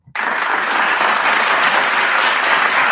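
A soundboard applause effect starts abruptly after a brief blip and rolls on as a steady, loud wash of crowd clapping for three seconds with no talk.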